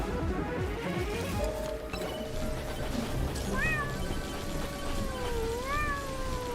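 Several pet cats meow against a constant busy background of game sounds, with rising and falling cries standing out in the middle and near the end.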